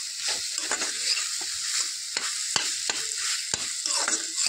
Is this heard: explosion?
no